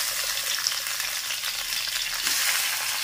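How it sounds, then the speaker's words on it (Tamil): Chilies and tomatoes sautéing in coconut oil, a dense, even sizzle heard close and steady throughout with faint stirring, no one talking. "நான் தேங்காய் ஊத்தி தான் வதக்கிறேன்"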